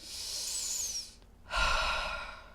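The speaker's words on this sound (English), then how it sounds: "the way I breathe, there's many ways to breathe, is deep breath in" A person takes a long, deep breath in as part of a calming breathing exercise, then after a brief pause releases a strong, airy exhale, close and clear with no talking.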